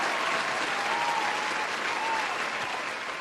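Dense, steady clapping from many hands fills the whole stretch at an even loudness and tapers slightly near the end.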